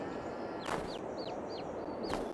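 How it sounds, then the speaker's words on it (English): A small chick and hen on a winter farm chirp in a series of five or six quick, high, rising peeps, with two brief bursts of broadband noise among them over a steady low background hiss. "Oh, there's a little chick. Hear it chirping."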